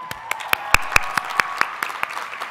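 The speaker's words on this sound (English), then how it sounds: "that's a round of applause for you" Applause at a Cal Poly Pomona commencement ceremony for the graduates: distinct, fairly regular claps ring out close and sharp over a softer wash of crowd clapping.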